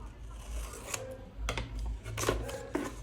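Scissors nicking a notch into the paper-covered bottom edge of a handmade cardboard box, a few short scraping snips close by over low background hum.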